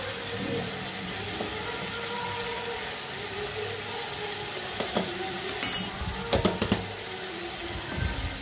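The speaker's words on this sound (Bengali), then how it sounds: "এবার এই মশলাটাকে ভালো করে কষাতে হবে।" Ground spices, salt, turmeric, cumin and coriander, sizzle in oil in a pan for a jackfruit curry, a steady low frying hiss with a few sharp scrapes and clinks from stirring near the end.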